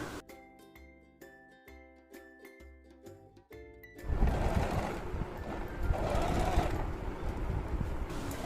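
A sewing machine runs steadily, stitching a strip along the neckline of a dress made from an old saree, then reverse-stitching to lock it. A continuous, fairly loud motor whir follows a short stretch of melodic music.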